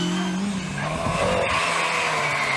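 A historic rally car brakes late on a Welsh stage, giving a brief loud skid and tire squeal over the engine's roar as it passes close by.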